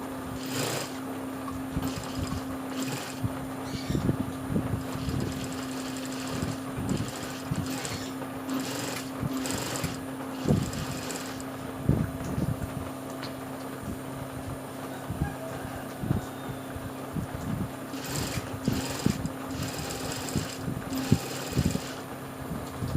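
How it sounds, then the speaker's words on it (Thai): A sewing machine stitches a sportswear fabric hem, with a steady motor hum and bursts of rhythmic needle clatter that start and pause repeatedly, close by. "ค่อยๆ เย็บนะคะ อย่ากระชากจาก"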